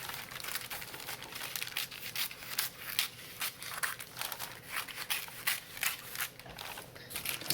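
Scissors cut through a large sheet of packing material with a steady run of crisp snips and crinkling rustles, close by and fairly quiet.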